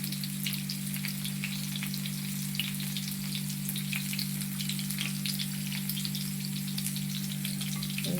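Chicken satay pieces fry in hot oil with a steady, dense crackle and sizzle, faint pops scattered throughout over a constant low hum, with no voices.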